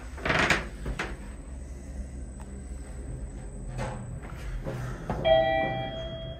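A Kleemann lift inside a River Island store at the Merry Hill Shopping Centre, Dudley, travels upward with a steady low hum and a soft motor whine. A few clunks punctuate the ride, and a chime sounds near the end.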